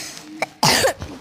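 A person gives a single sharp, close cough during a Free Fire game session, one short harsh burst with quiet breathing around it.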